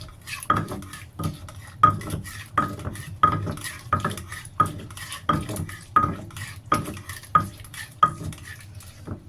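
A stone or clay mortar pounds a spicy Thai salad with pork sausage, salmon and beans in a steady rhythm: about a dozen dull thuds with light clinks, roughly one every 0.7 seconds, close and fairly loud, with no talking.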